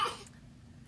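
One short, sharp sneeze bursts out at the very start, then fades to near silence.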